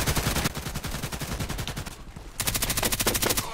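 Rapid bursts of suppressed Vintorez sniper rifle fire in a video game deathmatch, loud and close, with dense repeated shots in two volleys separated by a brief pause.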